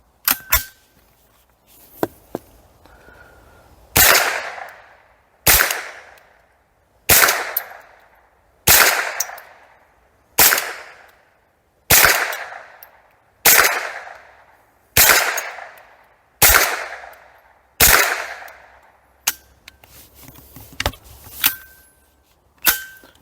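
A UK-legal .22lr AK47 rifle fires about eleven sharp, evenly spaced single shots outdoors, each a loud crack with a short ringing tail, with a few faint metallic clicks before and after.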